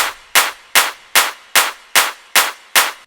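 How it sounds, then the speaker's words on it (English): A Production Master build-up clap sample plays as eight sharp, evenly spaced claps, each a bright burst with a short tail, repeating steadily and loudly on its own. "We also have Production Master build-up clap."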